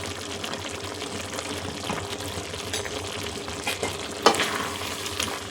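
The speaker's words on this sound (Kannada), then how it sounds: "ಧನಿಯಾ ಪುಡಿ ಹಾಕಿ ಚೆನ್ನಾಗಿ ಮಿಕ್ಸ್ ಮಾಡಿ" Chicken liver masala being stirred in a pan after coriander powder goes in, a steady close sizzle with scraping spoon strokes and a sharper clatter near the end, no voices.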